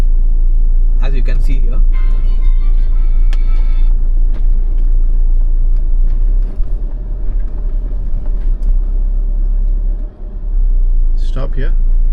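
Loud, steady low rumble of a 2025 Jeep Meridian 4x4 crawling over rutted off-road terrain, with bumps and knocks through the suspension; people talk over the engine noise throughout.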